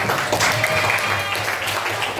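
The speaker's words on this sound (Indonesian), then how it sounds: "terima kasih tepuk tangan untuk tadi yang sudah mengikuti" A room full of people at a teacher certification performance test claps in steady applause, with some voices mixed in beneath the clapping.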